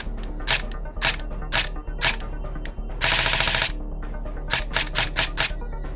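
An airsoft M4 fitted with a Gate Titan control unit fires close by in short mechanical bursts of rapid clacking, with one longer sustained burst in the middle and several quick single and double shots around it.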